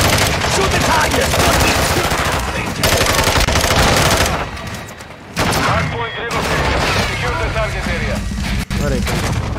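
Heavy automatic gunfire in Modern Warfare 2 on the Shipment map, sustained loud bursts with short pauses and a sharp single crack near the end, as players chatter over the shooting.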